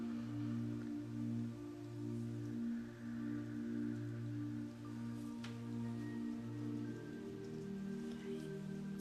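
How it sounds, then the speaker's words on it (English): Freezing rain falls outside as a faint, steady patter and hiss, with a low humming drone running underneath. "It sounds like freezing rain."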